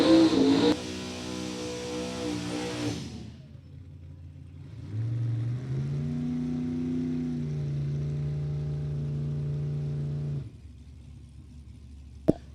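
A '55 Chevy with a big block engine and a '99 Mustang sit at a drag strip during test and tune, engines loudly revving at first, then settling into a steady, droning rumble that holds for several seconds before cutting off.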